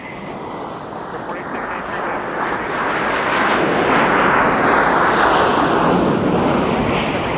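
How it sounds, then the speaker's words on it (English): An approaching Delta Airbus A321neo arriving at Minneapolis–Saint Paul airport in winter makes a broad, steady jet roar that swells gradually over several seconds and holds loud near the end. "Delta 447 from Anchorage is also getting pretty close here, too, to arrival. The A321neo."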